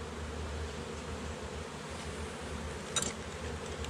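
Bees buzzing around an open hive during an inspection, a continuous close drone with one brief louder pass as a bee flies near, and no talking.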